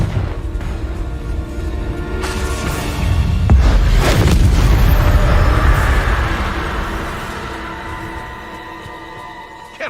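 A Confringo blasting spell explosion in Hogwarts Legacy, a loud, broad booming blast that builds in the middle and rumbles on for several seconds before fading, with no talking.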